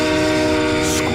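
A monster train roars through the night in the horror shooter game The House of the Dead Overkill, a dense, loud rumbling wash with a sustained horn-like tone and a brief hissing burst, all under continuous talk.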